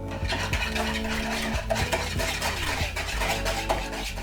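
A utensil stirs cupcake batter of sugar and vanilla sugar in a bowl, with repeated scraping strokes and light clinks against the sides, close and steady.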